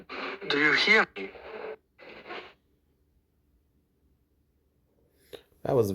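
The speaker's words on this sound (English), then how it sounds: "That was very staticky." A staticky radio transmission in the video game Moonvale, with a voice crackling through for a few seconds, then silence, then a short burst of sound at the end.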